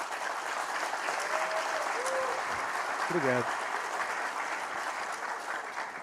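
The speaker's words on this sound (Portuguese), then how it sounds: "Palmas para ele!" Audience applause at a tech career talk, sustained steady clapping from a crowd with a short spoken thanks in the middle.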